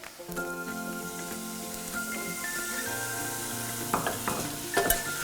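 Apple and garlic cooking in a frying pan, a soft continuous sizzle underneath a few stirring scrapes and light knocks, close and fairly quiet.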